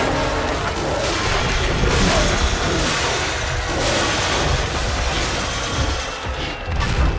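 Engine noise from a car in a King Kong video game roars and churns loudly and continuously, mixed with dense clattering crashes and mechanical rumble.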